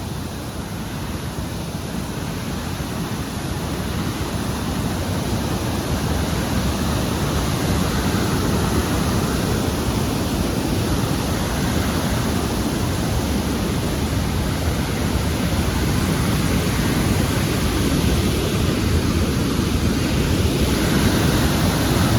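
A huge mountain waterfall on the trekking route to Kedarnath roars in a loud, steady, unbroken rush of falling water close by, with no voices.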